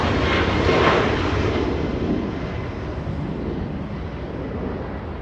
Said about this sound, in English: We're going to go to Southwest Airlines, flying to Honolulu, a 737 MAX 8.